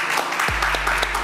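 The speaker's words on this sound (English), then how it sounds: "Give him some claps, man." A small group gives brief applause for Trevor Noah, steady clapping heard for about a second over a low, constant hum.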